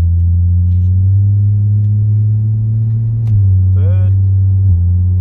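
A 700HP Ford G6ET with a Barra engine on a road test, a loud steady engine drone inside the cabin with a pitch change as it shifts gear, and a brief voice near the end.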